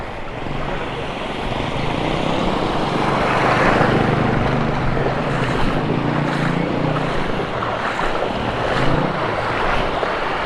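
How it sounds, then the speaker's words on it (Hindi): Water gushing at high pressure from a broken water pipeline at Karachi University, a loud, continuous roaring hiss and rush with wind buffeting the microphone. "बहुत प्रेशर से पानी आ रहा है यार।"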